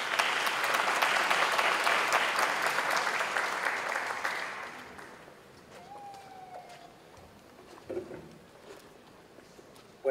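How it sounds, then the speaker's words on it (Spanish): Audience applause at an international circular economy forum, loud sustained clapping for about five seconds that fades out into a quieter room with a few scattered knocks and noises. "Fuertes aplausos para él."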